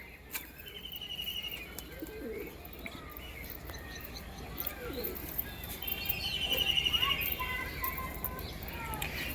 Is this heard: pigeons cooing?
yes